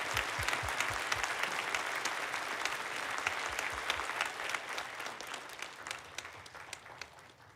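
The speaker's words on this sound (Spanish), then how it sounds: "Ahora, demos la bienvenida al presidente Iman Hee, quien entregará el mensaje con un gran aplauso" An audience at a church assembly breaks into loud, sustained applause to welcome the president, dense clapping that gradually thins out toward the end.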